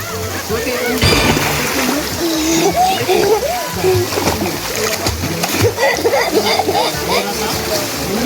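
Repeated splashes as people jump into a swimming pool at a bamboo resort, with water sloshing and children and adults talking and shouting close by throughout.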